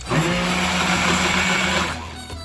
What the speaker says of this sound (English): And it just kind of cleans off my immersion blender.